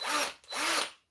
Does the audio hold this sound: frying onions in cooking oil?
no